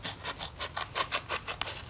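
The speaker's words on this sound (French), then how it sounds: "Et on peut faire un petit test aussi sur du carton," Leatherman Arc multitool scissors cutting through thick cardboard, a series of about ten short rasping snips in a steady rhythm, close and moderately loud with no talking.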